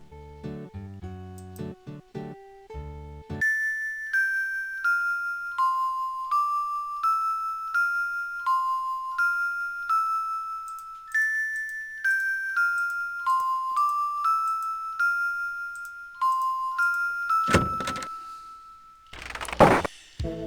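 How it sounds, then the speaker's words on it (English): Chiming bells in the Quest for Glory 4 video game ring out a long melodic sequence of clear, sustained tones, one note after another at an even pace, followed by a brief burst of noise near the end. "that is the most complicated sequence we get out of the bells, and the one that will repeat itself to the end from now on"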